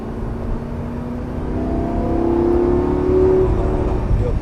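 A Lamborghini Gallardo LP 560 engine on a track pulls hard under acceleration, its steady drone climbing in pitch and loudness over several seconds before a brief dip at the gear change, heard close and alone.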